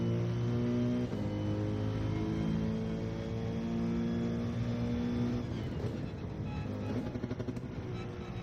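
A race car in the video game Gran Turismo 7 accelerates hard, its engine note climbing steadily and dropping at clear gear shifts near the start and again past the midpoint, loud and close throughout.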